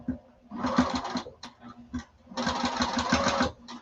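A sewing machine stitches the exterior of a duffle bag in two steady, fairly loud runs. The runs are split by a short pause, and the rapid mechanical chatter is close and clear, with little talk around it.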